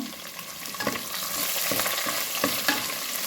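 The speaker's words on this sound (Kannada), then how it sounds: "ಬೆಳ್ಳುಳ್ಳಿಯನ್ನು ಹಾಕ್ಕೊಂಡೆ ಕರಿಬೇವಿನ ಎಲೆಯನ್ನು ಕಟ್ ಮಾಡಿ ಹಾಕಿದ್ದೇನೆ ಈರುಳ್ಳಿಯನ್ನು ಹಾಕ್ಕೊಂಡಿದ್ದೇನೆ" Onion, garlic and chopped curry leaves frying in a pan for bitter gourd saaru, a close steady sizzle broken by a few spatula scrapes and taps against the pan.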